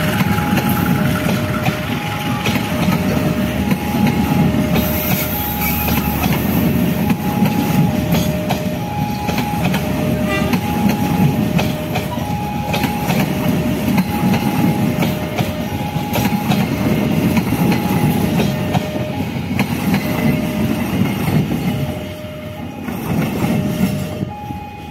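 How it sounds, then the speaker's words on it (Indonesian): The Fajar Utama Solo passenger train rolls past with a continuous rumble and rhythmic wheel clatter, a two-tone chime repeating over the noise. "Kereta api Fajar Utama Solo KA88 relasi Jakarta Pasar Senen dengan tujuan akhir Solo Balapan."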